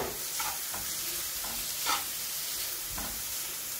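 Onion with crushed ginger and garlic frying in a hot pan for chicken chattipathiri, a steady sizzle with scraping stirs of a spoon against the pan at intervals, fairly close.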